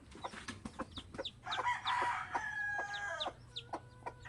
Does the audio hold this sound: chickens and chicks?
yes